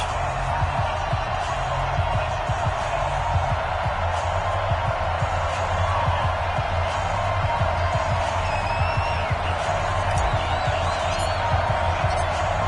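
Stadium crowd cheering in an EA Sports American football game between the Seattle Seahawks and the Los Angeles Rams, a steady dense roar throughout with faint whistles and whoops on top.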